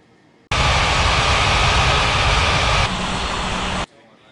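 A jet airliner roars loud and steady on its takeoff run at Bali's Ngurah Rai airport, a broad sustained blast that starts abruptly, shifts slightly midway and cuts off sharply after about three seconds.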